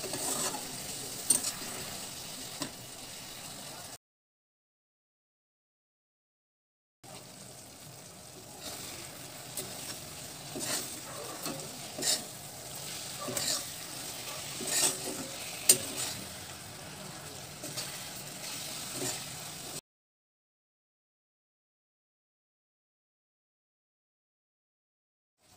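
Amla pieces cooking with sugar in a pan over a low gas flame give off a soft, steady sizzle, broken by scraping stir strokes, with two stretches of silence between passes.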